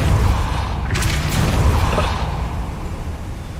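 A Depulso spell is cast in Hogwarts Legacy, a dense rumbling boom with a brief whooshing burst about a second in, loud and sustained, then fading slightly as the low rumble carries on without speech.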